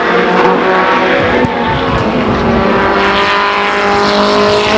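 Race trucks roar around Stockton 99 Speedway's short oval, loud, continuous engine noise from several trucks blending together at close range, with no talk audible.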